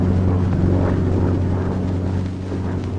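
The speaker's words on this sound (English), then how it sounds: "As the plane starts down the runway, open the throttle with a positive, steady motion." A P-40 Warhawk fighter's piston engine roars loud and steady during its takeoff roll down the runway, a dense low drone with wind rush that eases slightly near the end.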